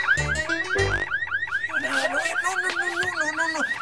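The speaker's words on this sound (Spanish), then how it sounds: "¡Ay, alarma!" An alarm blares in rapid, repeating rising sweeps, loud and close. Brief voices sound at the start.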